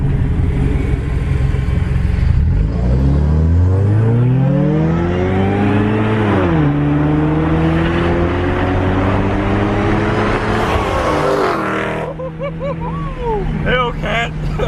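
A Dodge Challenger Hellcat engine revs hard and climbs in pitch, then drops back, its loud V8 roar filling the whole stretch while people shout and talk excitedly over it.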